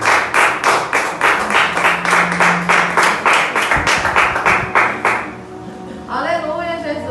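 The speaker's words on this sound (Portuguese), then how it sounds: "Pode aplaudir ao Senhor Jesus." Church congregation clapping in a strong, regular rhythm for about five seconds, loud and close, then stopping as a voice begins speaking.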